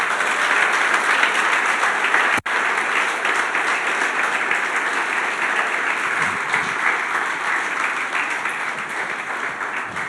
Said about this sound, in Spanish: dale tu mejor aplauso al Señor